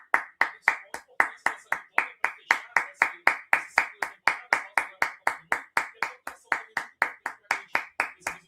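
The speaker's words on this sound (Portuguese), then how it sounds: "Palmas." Steady, rhythmic hand clapping, about three to four claps per second, sharp and close, repeating evenly without pause; a lone person at a football match protesting a team stuck in the relegation zone.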